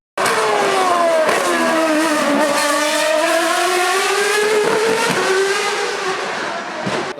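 A V8 Formula 1 car with a titanium exhaust roars past at the Adelaide Grand Final motorsport event, a loud, high-pitched howl that swells, shifts pitch as it passes and fades away.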